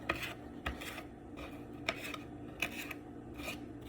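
Small pasta salad ingredients being cut up in a kitchen, a quiet series of soft chopping and scraping taps at an irregular pace, close by with no talking.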